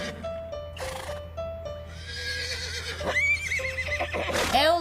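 A horse neighing, repeated whinnies rising and falling in pitch, loud and close, with a final long shaky whinny and faint hoof clopping underneath.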